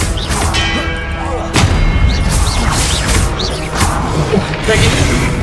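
Blasting Confringo spell cast in Hogwarts Legacy combat on hard difficulty, loud booming impacts with a sharp crack near the start and another burst midway, over dense game effects and shouted voices.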